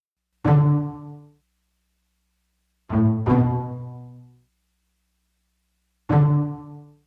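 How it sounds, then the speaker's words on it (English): Sparse plucked pizzicato notes from a Yamaha keyboard, a single note, then two close together, then another, each ringing briefly before fading into silence. "this is basically how the song started with this pizzicato"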